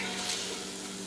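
Onions sizzling and frying in coconut oil in a pan, a steady, close, continuous hiss with no talking.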